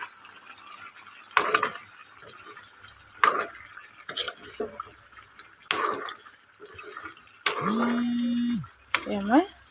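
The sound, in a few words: stirring mutton curry in a pot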